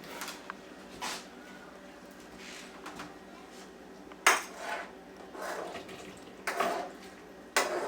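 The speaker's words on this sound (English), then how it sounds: "we're going to drain off of our grease" Grease is drained from browned meat in a pan, with intermittent metallic clanks and scrapes of the pan and utensils, some sharp and close, between quieter stretches of faint liquid movement.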